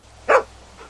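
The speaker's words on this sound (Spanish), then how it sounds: "Es un perro, creo, ¿no?" A dog in The Walking Dead video game lets out a single short, whiny yelp, close and clear, followed by a fainter second whimper a moment later.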